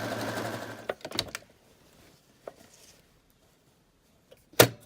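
A sewing machine runs in a short, loud burst while stitching a half-inch seam on a duvet, then goes mostly quiet apart from a few scattered clicks and one sharp knock near the end.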